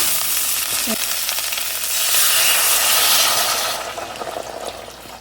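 Ten cups of water pour steadily into a cooking pan of sausage stuffing stock with thyme, bay leaf and peppercorns, a loud continuous hissing splash that swells midway then eases off.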